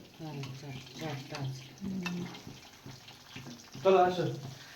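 Marinated chicken satay sizzles in hot oil, a soft steady frying hiss with a few louder bursts, heard under people talking nearby throughout.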